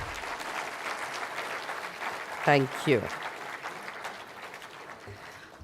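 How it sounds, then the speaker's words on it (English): An audience at the SWAVLAMBAN 2023 event applauds the speakers at the close of a session, a steady moderate wash of clapping from a sizable crowd, with a brief spoken thanks rising over it midway. "Can we hear a round of applause for all of them,"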